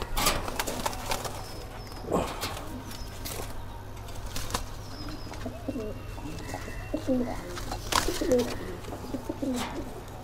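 Pigeons coo repeatedly at a pigeon farm, with soft rolling calls rising and falling, occasional wing flaps and clatter, and faint chirps among a steady background hum.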